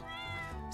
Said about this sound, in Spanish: Mira, va a ser una gata, se va a llamar Breta.